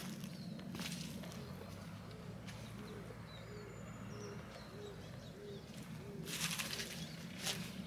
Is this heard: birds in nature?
yes